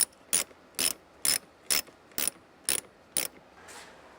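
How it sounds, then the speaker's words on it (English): Ratchet with a 10mm socket tightening a battery terminal nut on a 2015 Jeep Wrangler, seven crisp evenly spaced clicking strokes up close, then a soft faint rustle. "Take your ratchet and your 10mm socket and tighten the nut."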